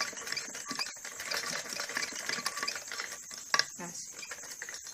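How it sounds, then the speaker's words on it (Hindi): Sewing machine double-stitching kurti fabric: a fast, fairly quiet whirring stitch rhythm running in short bursts, with a sharp clack of the machine partway through. "इसके बाद हमें ऐसे यहाँ ऐसे डबल सिलाई कर लेनी होती है"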